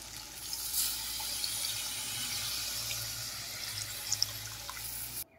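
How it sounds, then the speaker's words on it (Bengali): Coconut milk, pressed from a large coconut, being poured into a prawn masala for malai curry, a steady liquid pour lasting about five seconds with no talk, ending abruptly. "এবার আমি দিয়ে দেব নারকেলের দুধ।"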